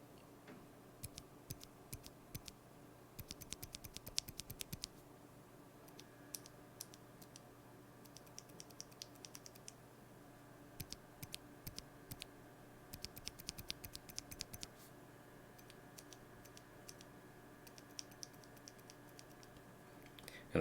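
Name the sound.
typing on lubed, unfilmed Alpaca v2 keyboard switches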